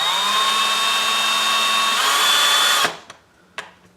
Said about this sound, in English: I'll put in a larger drill now